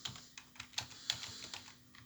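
Someone types on a computer keyboard with quick, uneven clicks and a few sharper key strikes, close and fairly quiet, with no voices.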